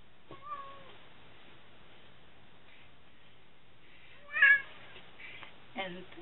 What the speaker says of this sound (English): Sorry, I had a pesky cat.